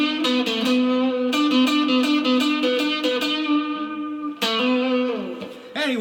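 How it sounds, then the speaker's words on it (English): Short, clipped electric guitar notes picked in a choppy staccato rhythm, with a bright, slightly effected tone, close and fairly loud, ending on a sustained bend. "different staccato sounds."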